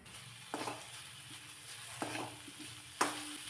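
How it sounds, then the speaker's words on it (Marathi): Dried red chillies fry with roasted tomato in a pan, a steady soft sizzle broken by three sharper stirring scrapes spaced about a second apart. "तर छान असं टोमॅटो मी भाजून घेतलेला आहे आणि त्यानंतर यामध्ये थोड्याशा सुक्या मिरच्या घालते"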